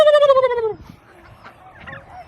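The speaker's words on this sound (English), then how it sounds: "You make a pretty good turkey." A single loud turkey gobble rattles out for under a second, then gives way to faint background noise and distant rustling.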